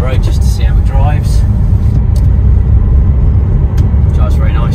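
A 2018 Renault Trafic 1.6 DCI van rolls along a road, its steady engine and road noise droning loudly throughout, while someone talks over it.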